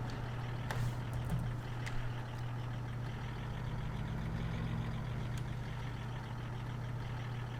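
A vehicle in the video game Farming Simulator 17 reverses with a faint, steady engine drone and quiet repeating backup beeps underneath, with no talking.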